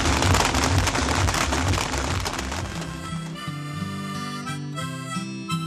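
Yanshui beehive firecrackers burst at a lantern festival in Tainan as a dense, crackling barrage of rapid pops that thins after a few seconds, giving way to a bright tonal music-like layer.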